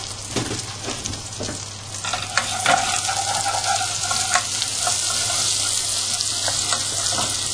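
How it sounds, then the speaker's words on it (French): Frozen chopped shallots sautéing in butter in a pan, a loud continuous sizzle with stirring scrapes and occasional taps, heard close up without talk. "ensuite on fait revenir nos échalotes"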